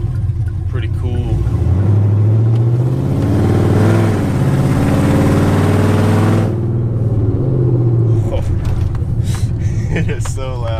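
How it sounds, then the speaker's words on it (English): A loud Chevrolet Silverado pickup engine with a performance cam and open headers roars and revs with a deep, throaty rumble that swells and then settles back to a steady idle, with no one speaking. "I don't have to cruise around with open headers, but I want to."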